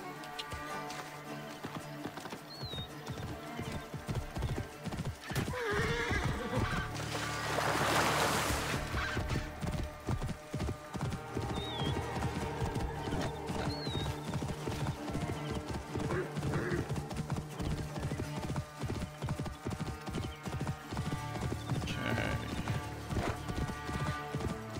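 A horse's hooves clip-clop in a brisk, steady rhythm in the Assassin's Creed Origins video game, with a loud neigh breaking in partway through over faint background ambience.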